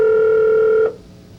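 Telephone speed-dialing: a steady two-pitch electronic tone sounds cleanly for under a second, then cuts off into quiet room hiss.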